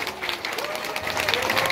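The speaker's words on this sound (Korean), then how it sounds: "여러분, 큰 박수 부탁드립니다" Dense crowd applause breaks out at a ribbon-cutting ceremony for a fifth-anniversary green remodeling, a loud sustained wash of clapping from many hands with a faint voice beneath.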